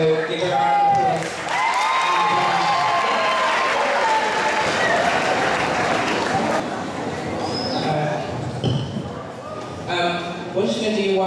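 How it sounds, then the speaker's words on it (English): Applause fills a school hall at a Black History Month gospel celebration, loud and steady for several seconds before it fades into crowd chatter, cheers and voices. "So give it a round of applause."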